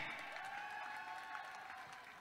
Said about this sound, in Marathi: टाळ्यांचा कडकडाट